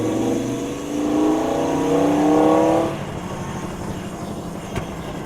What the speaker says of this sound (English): It's probably my right front wheel bearing.